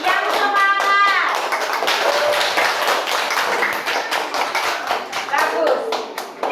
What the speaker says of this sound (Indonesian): Tepuk tangan dulu untuk Rei.